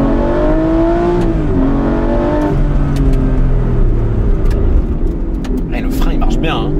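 An Aston Martin V12 Vantage S engine climbs hard between 5,000 and 7,000 rpm, its loud rising howl pulling up in pitch, dropping back and building again, with a few sharp clicks near the end.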